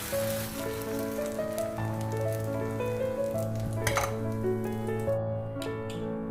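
Dosa batter sizzles on a hot pan in a home kitchen, a steady close frying hiss running throughout with faint stirring and scraping touches near the end.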